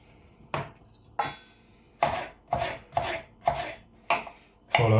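Potatoes are cut finely with a knife on a board, giving about eight sharp, separate chops in an uneven rhythm, close and clear against a quiet background.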